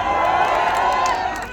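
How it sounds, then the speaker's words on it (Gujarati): A crowd of children and adults cheering and clapping for an entertainer in Thara, a dense loud roar of voices and applause that stays level for its whole short length. "જોરદાર તાળી થઈ જાય."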